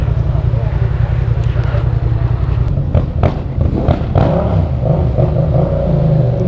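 A loud motorcycle engine idles and revs with a deep, rumbling exhaust, close by at a gas station, while voices talk over it.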